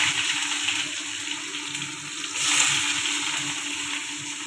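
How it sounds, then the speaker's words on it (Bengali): Chopped onion with bay leaf and panch phoron sizzles steadily in hot oil, a continuous close, even frying hiss for a potato-and-fish curry, with a brief swell partway through. "ঝোলটা করে নেওয়ার জন্য ফোড়ন দিয়ে দিলাম তেজপাতা, পাঁচ ফোড়ন, পেঁয়াজ কুচিয়ে"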